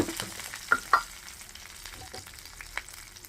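Ground turmeric hits hot oil alongside dried red chillies, giving a steady soft sizzle with a few sharp spoon taps against the pan and no voices.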